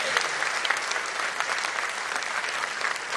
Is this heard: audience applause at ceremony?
yes